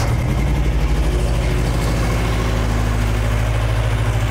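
A 1977 Toyota Hilux six-wheeled mini truck, abandoned and being revived, idles steadily with a deep, even engine rumble close by, running alone without talk.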